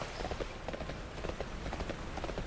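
Horse hooves clip-clopping in World of Warcraft, a steady, fairly close trotting rhythm of hollow hoof knocks over a low game ambience.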